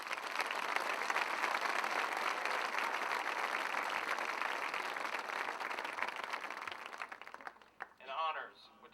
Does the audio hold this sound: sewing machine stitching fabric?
no